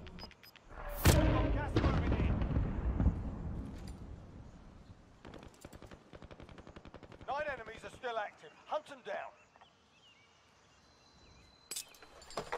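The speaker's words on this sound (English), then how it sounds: "somebody is shooting at him from behind" Gunfire in the Warzone battle royale game: a loud close blast opens into a rattling spray of automatic shots, then sparse bursts and single cracks fade out, with a voice talking over parts of it.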